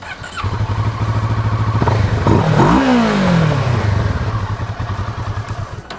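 An adventure motorcycle with a 650cc-class parallel-twin engine idles with a close, pulsing rumble, revs up once with a rising then falling howl, and settles back into its steady thudding idle.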